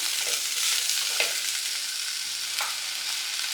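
Raw mango pieces fry in hot oil in a pan for a curry, with a steady bright sizzle throughout and a few soft scrapes and clinks as the mixture is stirred.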